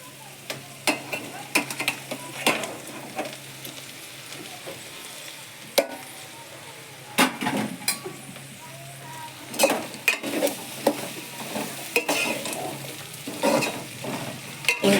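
Chopped tomato and raw mango pieces fry in a pan for a Telangana-style egg curry, a spoon scraping and stirring in irregular strokes over a low continuous sizzle, close and without speech.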